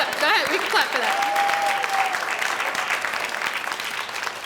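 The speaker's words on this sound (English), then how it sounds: "Go ahead, we can clap for that." Audience applause at a Boys & Girls Club Hall of Fame ceremony in Nashua, New Hampshire: sustained, dense clapping from a hall crowd for several seconds, with a brief whistle or cheer mixed in.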